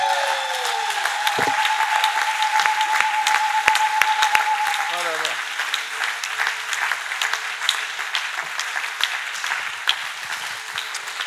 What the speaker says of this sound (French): Est-ce qu'on peut acclamer, se lever, acclamer le Seigneur tous ensemble?